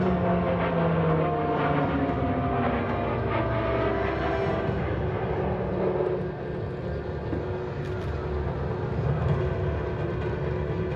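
An aerobatic airplane flies reverse rolls at a military base open house airshow, its engine a continuous loud drone with slowly shifting pitch as it maneuvers, heard from the ground without speech.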